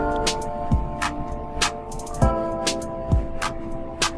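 Piano chords played in FL Studio, sustained layered tones with a kick-like low thump and crisp hi-hat ticks in a steady beat pattern, loud and up front with no talking.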